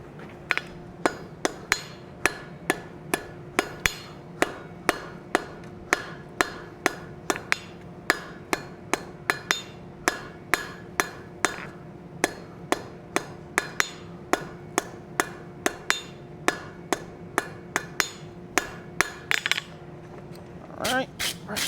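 Hammer blows ring on hot metal at an anvil while forging roses, a long run of sharp metallic strikes in a quick, fairly even rhythm, moderately near, with brief pauses between bursts.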